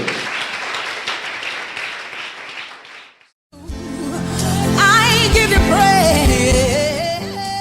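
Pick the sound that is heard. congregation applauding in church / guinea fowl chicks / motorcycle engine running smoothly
congregation applauding in church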